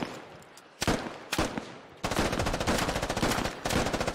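Automatic weapon fire in a Squad Ops video game battle, a few sharp isolated shots followed by sustained rapid bursts that stay loud and dense to the end, with no voices.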